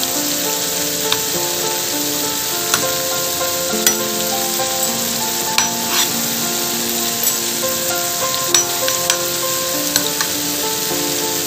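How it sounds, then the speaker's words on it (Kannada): Bread slices fry in a pan of fat for Hyderabadi double ka meetha, a loud, even hiss with frequent spitting pops and occasional turning clinks, close and steady throughout with no talking. "ಈಗ ಸೆಕೆಂಡ್ ರೌಂಡ್ ಹಾಕಿದ್ದು ಕೂಡ ಚೆನ್ನಾಗಿ ಫ್ರೈ ಆಗಿದೆ."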